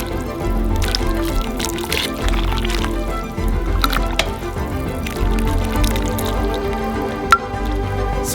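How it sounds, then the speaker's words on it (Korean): Fish soup pours and drips onto a plate with soft squishy splashes, a few sharper clinks and a brief crack near the end, close by. "접시에 따라줘요."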